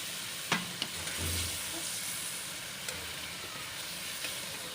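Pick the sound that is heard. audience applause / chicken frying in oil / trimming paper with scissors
chicken frying in oil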